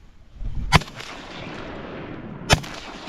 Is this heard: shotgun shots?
yes